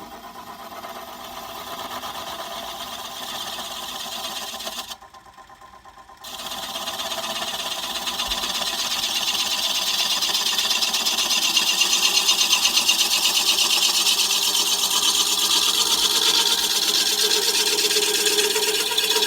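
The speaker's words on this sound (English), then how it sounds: "So I'm getting a shear scrape, and I'll just do a couple light passes" Wood lathe turning a piece while a tool takes light shear-scraping passes, giving a continuous raspy whir that briefly drops out, then resumes and grows slightly louder and steadier.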